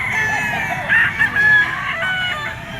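A possum sweater stag rooster crowing close by, one loud drawn-out crow with a wavering pitch over faint background farmyard noise.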